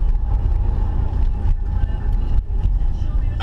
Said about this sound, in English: I just like the way that car sounds.